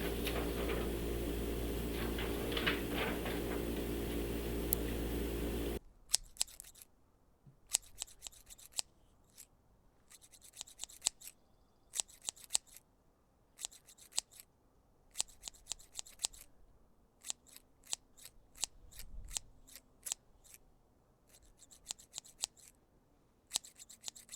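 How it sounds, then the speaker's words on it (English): Scissors snip through a paper template for a model tipi, after a few seconds of steady broadband noise, giving way to repeated close, crisp snips that come in quick clusters with short pauses between them and no talking. "And now to cut out our template"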